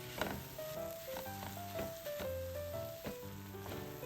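Sliced onions sautéing in a pan for chicken leg masala, cooked until soft rather than crisp: a quiet, continuous sizzle with light stirring knocks, heard beneath a gentle instrumental melody.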